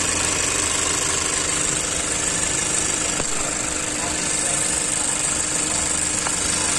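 Mazda CX-3 engine idling steadily after a blower motor repair and tune-up, a continuous smooth hum with a faint high whine, close up and without voices.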